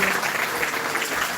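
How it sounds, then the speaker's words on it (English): Audience applause for a speaker at a public meeting on science and free speech, a dense, continuous round of clapping from a crowd, loud and steady throughout. "I want to show you a big round of applause for him"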